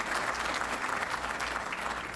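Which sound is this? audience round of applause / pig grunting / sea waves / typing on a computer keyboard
audience round of applause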